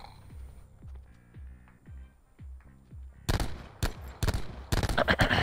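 Enemy gunfire in a Call of Duty match, loud rapid bursts of close shots cracking in quick clusters during the second half, after a stretch of low rhythmic thumping.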